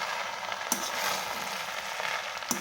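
Chicken tahiri cooking in a pan, a steady frying sizzle with a couple of sharp scrapes from stirring, close and alone.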